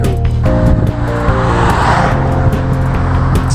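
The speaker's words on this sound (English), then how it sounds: "you can't hear it over the traffic" Road traffic in Jerusalem rumbles close by, with engines droning and vehicles passing loudly and continuously, with no speech over it.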